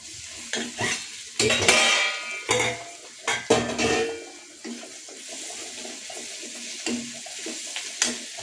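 Onions frying in oil with salt in a pan, intermittent loud sizzling bursts and stirring scrapes separated by quieter stretches.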